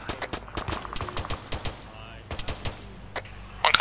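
Automatic gunfire in the video game Arma 3 rattles in rapid close bursts, sharp repeated cracks with short pauses between volleys, ending in a louder final burst.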